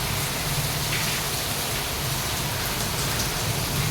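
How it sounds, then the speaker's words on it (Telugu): Loud, steady rainfall fills the scene with a close, unbroken hiss of drops and no voices. "అసలు ఇలా వర్షం పడుతుంటే చాలా బాగుంది చూడ్డానికి"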